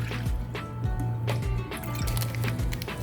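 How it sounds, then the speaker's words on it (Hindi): Cold water is poured into a container for pani puri, giving close splashing and gurgling with dripping plops and pouring surges at an uneven rhythm. "2 ग्लास में ठंडा पानी डाल रही हूँ इसमें।"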